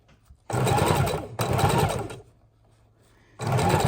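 A sewing machine stitches a miniature junk journal made from a playing cards box, running in three loud close bursts separated by brief pauses.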